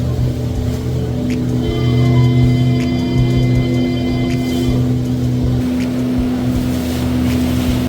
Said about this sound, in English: We are on the riverboat.